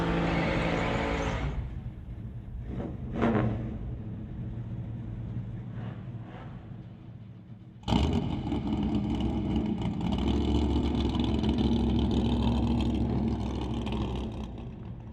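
The SBB Racing Dodge Dart drag car revs at an NHRA Summit ET drag strip, a loud engine roar that drops away, then a sharp burst of acceleration with a sustained full-throttle howl.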